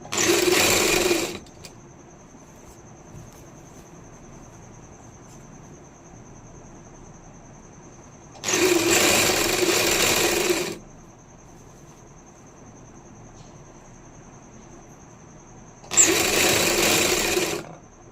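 Sewing machine stitching the armhole seam of a lined kameez, three bursts of steady whirring stitching, each a second or two long, separated by quiet pauses, loud and close.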